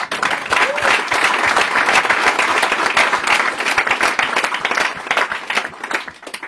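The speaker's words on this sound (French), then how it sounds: "on peut l'applaudir" Loud, sustained applause from a large crowd, dense continuous clapping that keeps going for several seconds before thinning slightly at the end.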